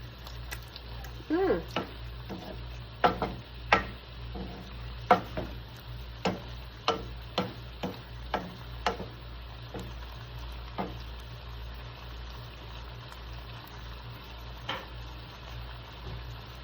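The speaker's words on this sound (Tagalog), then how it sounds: "Luto ng ato ang adobong talong." Eggplant adobo (adobong talong) cooking in a pan: a soft, steady sizzle under a series of sharp utensil clicks and taps against the pan from stirring, roughly a dozen scattered knocks, fairly quiet and close.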